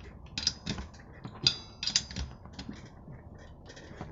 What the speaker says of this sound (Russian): То есть я сейчас прикручиваю сцепление.